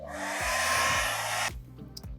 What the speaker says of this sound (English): Now we're going to speed this up with a hairdryer.